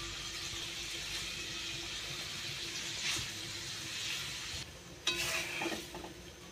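Turmeric-and-salt-coated small hilsa fish pieces go into a pan of watery mustard-spice curry, giving a steady close sizzle and bubbling with a few louder stirring clatters near the end.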